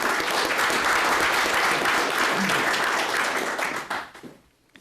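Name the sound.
audience applause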